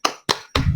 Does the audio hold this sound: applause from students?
yes